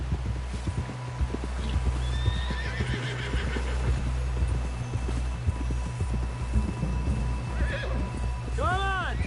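Horse hooves clip-clopping at a gallop in the Red Dead Redemption 2 video game, steady and close throughout, with a whinny near the end and game music and sound effects layered over it.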